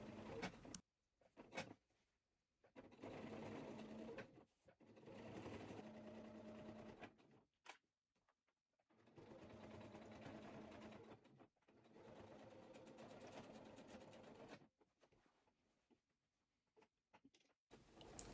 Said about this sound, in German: Und auch über die Gürtelschlaufe nähe ich einfach drüber.